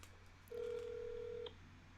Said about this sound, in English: We're actually going to call this phone number now